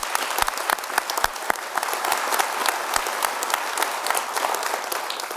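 Steady, dense applause from an awards banquet audience for the Festus football Tigers, a continuous clatter of many hands at a constant level with a few sharper individual claps.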